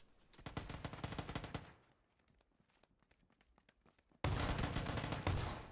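Automatic gunfire in the PUBG video game, set inside a school: a loud rapid burst, then a quieter stretch of scattered single shots, then another loud, sustained volley.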